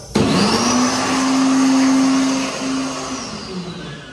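A World Dryer SLIMdri hand dryer runs loud in a McDonald's restroom in Orlando, FL, starting abruptly with a high whining motor tone over a strong rushing blast of air that holds steady for about four seconds.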